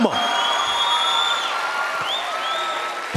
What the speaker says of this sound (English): Let's give mama's hand claps tonight here.